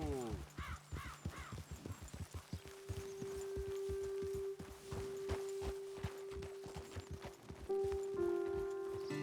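Horses walking in Red Dead Redemption 2, with a steady clip-clop of hooves on the ground throughout, joined by game music tones and a voice speaking over the hoofbeats.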